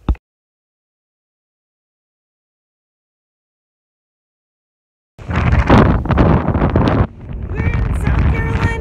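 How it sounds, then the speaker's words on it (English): Wind gusts outdoors in Columbia, South Carolina, roar against the microphone as a loud, rough buffeting rush that starts abruptly after a long silence and keeps blowing to the end. "And it's windy."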